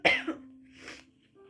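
A single sharp cough bursts out up close, followed by a softer throat-clearing sound, with a faint steady tone lingering underneath.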